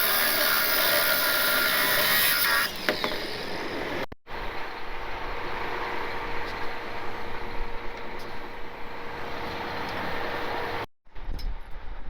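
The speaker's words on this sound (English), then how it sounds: "that bolt head is in the way of that nut coming down any farther. And John's just gonna cut it off." A power tool cuts through the bolt head on an old 70-year-old metal sign, a loud steady grinding whine that runs almost nonstop with two short pauses, close by.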